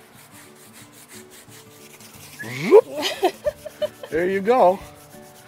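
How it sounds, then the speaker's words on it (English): A hand rubs the top of a giant tortoise's shell, making a soft, close, dry scraping that is followed by a person speaking briefly. "Just rub the top of his shell."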